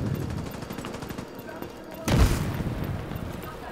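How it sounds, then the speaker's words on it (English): A grenade goes off behind the players in the Division 2 video game: one loud, sudden low boom partway through that stands out over steady game noise. "Oh, grenade. Behind us."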